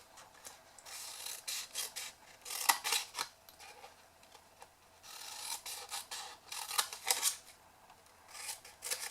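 Scissors cut wedges and trim bits away from a paper favour box template, making close, crisp bursts of snipping and papery rustling in irregular clusters with short pauses between them.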